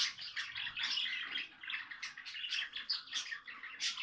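Sparrows chirp in a dense, busy chorus of overlapping tweets close to the microphone, continuous with brief dips, no voices.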